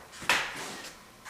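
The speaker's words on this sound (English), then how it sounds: "That's just the door." A door in a basement opens or closes with a soft wooden bump and a brief creaky rustle, faint and close, followed by a smaller knock a moment later.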